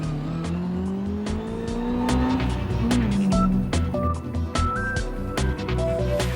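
A Maserati A6 GCS 55 racing car drives hard on a special stage of the Tour Auto, its engine loud and close as revs rise and fall through gear changes, with no talking.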